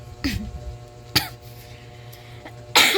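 A few sharp coughs, close by, one near the start, another midway and a heavier burst at the end, separated by quiet hum.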